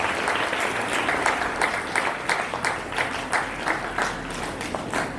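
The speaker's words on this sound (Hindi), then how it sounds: "दुर्गा दल के लिए एक बार जोरदार तालियां हो जाए।" Sustained audience applause fills a school Independence Day event, a dense steady wash of many hands clapping at moderate volume with no talk over it.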